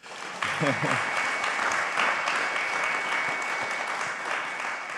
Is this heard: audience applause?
yes